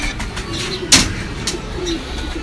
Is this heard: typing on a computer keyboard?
no